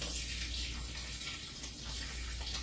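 Tap water runs steadily into a container while mead is being prepared, a continuous close hiss and splash with no talking over it.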